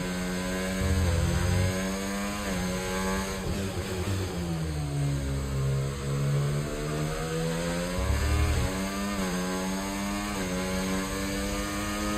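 An F1 24 race car engine in a racing video game, its high-pitched, harmonic whine dipping and climbing as the revs fall under engine braking and pick up again. The sound is loud, close and continuous, with no talking.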